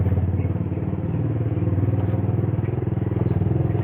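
A Yamaha Vixion motorcycle on a test ride sends out a loud, close engine drone with a fast, even throbbing pulse that holds steady throughout.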